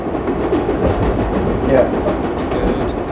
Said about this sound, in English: we just passed one of the trains